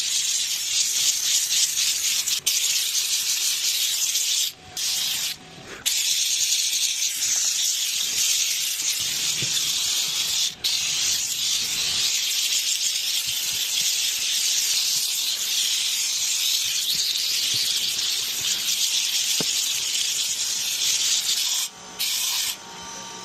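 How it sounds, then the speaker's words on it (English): A steam cleaner works over a car's driver-side seat, a loud continuous hiss with rubbing scrub strokes that runs almost unbroken, cutting out briefly a few times. "we're gonna steam clean this seat here, this entire seat"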